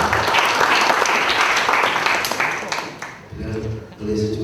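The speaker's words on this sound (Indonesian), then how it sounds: "Kita berikan tepuk tangan bersama." An audience at an ICT training session claps together in a steady round of applause for about three seconds, then the clapping dies away and a voice begins speaking.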